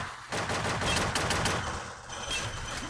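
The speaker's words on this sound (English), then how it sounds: "I'm getting shot by the other dude up there" Dense, continuous gunfire rattles through a round of the first-person shooter Offensive Combat, rapid overlapping shots that stay loud and close across the whole stretch with no talk.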